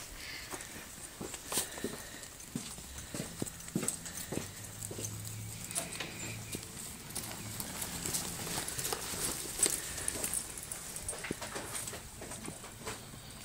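Hooves clip-clop in an irregular, uneven patter at close range, mixed with scuffling movement and a dog's faint whimpers.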